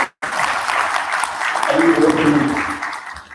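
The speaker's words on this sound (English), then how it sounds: "A round of applause." An audience at a shipping-industry conference gives a full round of applause, sustained steady clapping that fills the room for several seconds right after a brief pause.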